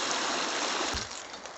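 A mountain stream on a glacier trek, rushing water heard up close as a loud, steady broadband hiss throughout, with a brief low bump near the middle.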